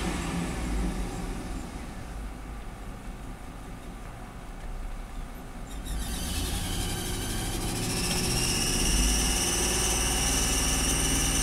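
A GM truck engine, one with a misfire and low power, rises from an idle into a throttle snap, the revs climbing and holding at a loud, steady roar toward the end.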